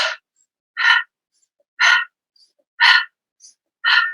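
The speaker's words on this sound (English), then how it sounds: "in through the nose and out through the mouth." Five evenly spaced breaths in through the nose and out through the mouth during an embodiment practice, each a soft broadband rush about a second apart, close and clear with silence between.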